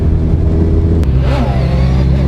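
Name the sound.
superbike revving during a wheelie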